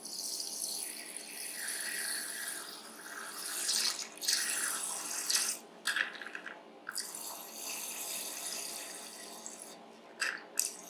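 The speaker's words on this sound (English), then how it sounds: "the entire cylinder fill with the water" Water pouring into a lab cylinder for a seed germination test, a steady hissing, splashing stream with brief interruptions and drips, close and continuous, with no talking.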